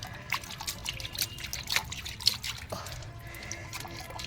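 Tap water runs and trickles into a sink, a steady splashing dribble with small drips, fairly quiet and close, with no voices.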